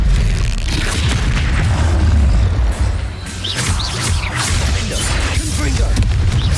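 The Expelliarmus spell cast in the video game Hogwarts Legacy, heard as a loud, sustained rumbling boom with whooshing magical swishes layered over a heavy low roar.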